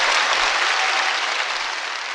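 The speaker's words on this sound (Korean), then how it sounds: "대단한 박수를 받아 마땅한 분이고 제가 보기에는 4대강 박수 주세요" An audience applauds a guest at a public talk event, a dense steady wash of many hands clapping, loud and sustained throughout without voices.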